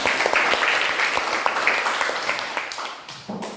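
Classmates in a school classroom applaud together after a math lesson exchange, a dense, steady patter of clapping hands filling the room, holding strong and then thinning out over a few seconds.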